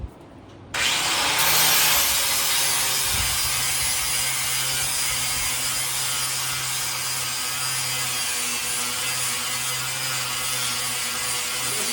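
A flap disc on an angle grinder grinds the rail of a cheap car hauler trailer, a loud, steady abrasive rasp that starts after a brief quiet moment and runs continuously close by.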